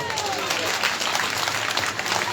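Applause from the audience at a live Gujarati religious discourse during a donation auction, sustained and dense throughout, with clapping close and loud.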